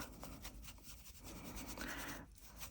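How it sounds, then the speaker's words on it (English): Excess glitter is rubbed off a hanging resin heart, producing a quiet, steady scratchy rubbing with faint repeated strokes, close up and without talking. "let's be like really gentle with this now and get all this excess glitter and stuff off. Give that a good rub."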